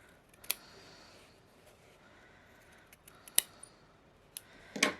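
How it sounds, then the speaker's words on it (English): Scissors trim loose threads on a sewn fabric needle case made from selvages, giving a few faint, sparse snips spread over several seconds with quiet handling noise between them and no talking. "Got a lot of loose threads here. Just trim all those up."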